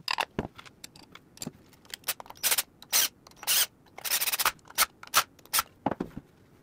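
Small metal parts and tools clicking and rattling as a Wampler Ego Compressor guitar pedal is reassembled, a close run of irregular sharp clicks, scrapes and jangles separated by short quiet gaps.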